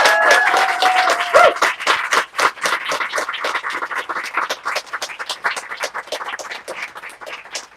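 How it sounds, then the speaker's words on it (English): A live audience at a book event applauds author Rax King, steady clapping from a room of people that swells early, then thins into scattered claps. "Let's give a round of applause to Rax"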